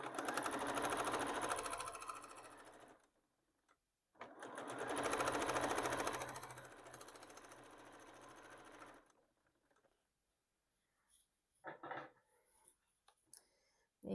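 A sewing machine stitches fabric for a Tula Pink pencil case in two long steady whirring bursts with a pause between, followed by quieter handling noises.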